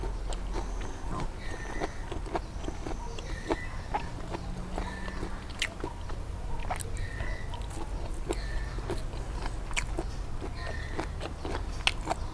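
Crunchy chewing of fattened beef tendon served with spicy papaya salad, close-up bites and crunches repeating irregularly throughout, with no talk.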